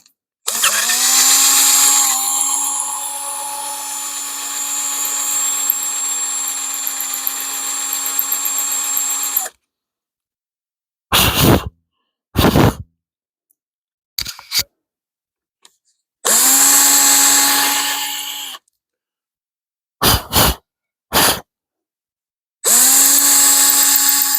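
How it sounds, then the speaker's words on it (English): A power drill drills a hole on a 1975 Plymouth Duster's clutch pedal assembly, whining at high speed for several seconds, then running in short bursts separated by silence, close and loud. "Trying to let Kristen drill a hole, but I don't know."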